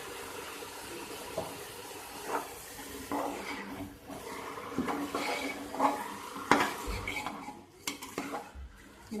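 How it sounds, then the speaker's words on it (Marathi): Washed rice goes into a pan of spiced vegetables for masala rice and is stirred, with soft scraping and clinks of a spoon against the pan at an irregular pace, fairly quiet and close. "आपण याच्यात तांदूळ घालून घेऊया जे आपण धुवून ठेवून दिलेले"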